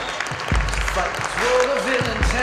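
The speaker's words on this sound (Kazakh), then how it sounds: "жақсылап ұрыңыздар қол шапалақ" An audience in Shymkent claps at a live stage show, a dense patter under a louder voice talking over it from a microphone, with a bassy thump or two from the sound system.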